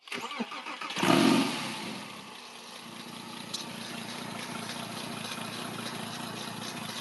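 A freshly assembled car engine with assembly oil cranks and catches, roaring briefly before settling into a steady, rumbling idle nearby.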